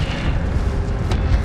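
An Incendio fire spell in Hogwarts Legacy bursts out as a low, rumbling whoosh of flame, heavy and booming throughout the short moment, with a couple of brief crackling flares near the end.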